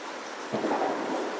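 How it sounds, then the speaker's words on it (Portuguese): Rain falling outside during a storm, with a soft steady hiss and a low rolling swell of thunder rising midway, fairly faint and distant, with no one talking. "Olha a chuva que tá lá fora."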